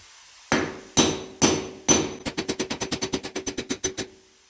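A framing hammer strikes four slow, sharp blows, then a rapid run of about a dozen quicker hits, loud and close with brief ringing.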